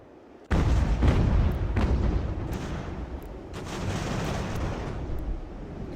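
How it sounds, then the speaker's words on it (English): Cannon and artillery fire on a battlefield in Ultimate General: American Revolution: a heavy, sudden opening boom, then repeated blasts and a continuous rumbling barrage, loud and close throughout. "Just hope that our cannons will do some"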